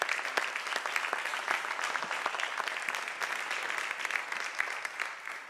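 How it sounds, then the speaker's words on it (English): Steady applause from a summit audience for a panel, many hands clapping together in a dense, even patter that fades slightly at the end. "I would like to ask you all to applaud the panelists"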